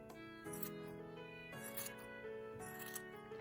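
Scissors snip through a thick yarn pompom in three quiet, evenly spaced cuts over a steady low hum, each snip brief and close.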